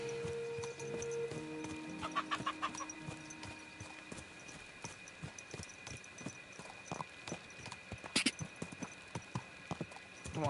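Horse hooves clip-clopping in the medieval video game Kingdom Come: Deliverance 2, a steady run of hoof beats over game ambience, with a few whinny-like tones early on.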